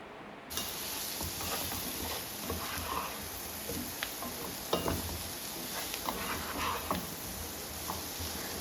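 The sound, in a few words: spiced potato fry with chopped coriander leaves frying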